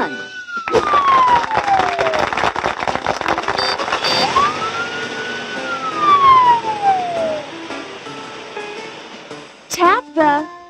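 A wailing ambulance siren sweeps up and down in loud rising and falling tones, mixed with other playful sound effects and a short burst at the end.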